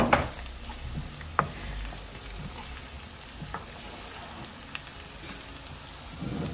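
Thick polenta bubbles and simmers softly in a pot, with a steady low crackle and a few sharper pops and clinks, no voices.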